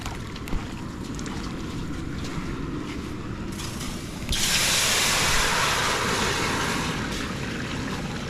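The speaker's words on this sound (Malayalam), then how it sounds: "നമ്മൾ ചട്ടി നന്നായിട്ട് ചൂടായി കഴിയുമ്പോൾ കുറച്ച് വെള്ളം ഒഴിക്കണം" Water poured into a hot clay pot on a riverside cooking fire bursts into a loud, rushing hiss partway through, following a quieter outdoor rumble. The hiss stays strong and steady to the end.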